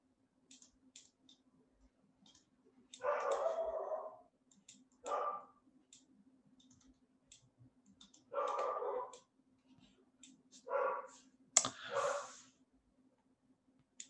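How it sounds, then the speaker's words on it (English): A pet dog barks in several short bursts, a few loud clusters spread across the time with quiet gaps between them and a faint steady hum underneath. "Sorry, my dog's going crazy."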